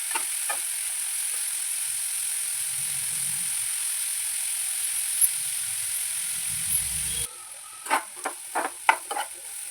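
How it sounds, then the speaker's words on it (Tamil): Steady sizzling of radish frying in a hot pan for a radish chutney, a continuous hiss broken near the end by several sharp scraping stirs. "முள்ளங்கியை சேர்த்துட்டு அந்த இது நல்லா வதக்கி எடுத்துக்கலாம்."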